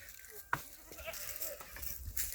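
Goats on a farm give faint, short bleats against low background noise, with a voice briefly audible in the distance.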